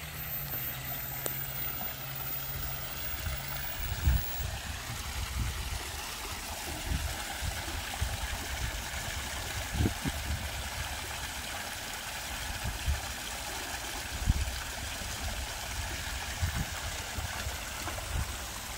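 Water runs steadily into a backyard fish pond, a continuous trickling and rushing flow with a low background hum and occasional soft knocks, heard alone without talk.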